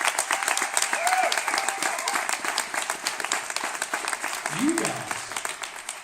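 An audience at a Denver Super Saturday event claps steadily, a dense ongoing patter of many hands, while a speaker's voice talks over the applause.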